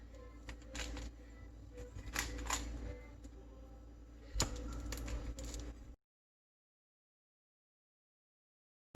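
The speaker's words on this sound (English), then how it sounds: "We're gonna cut it into sort of bite-sized pieces." Knife slicing through a chilled slab of bacon fat caramel on a cutting board, a few quiet taps and cuts close by, then silence.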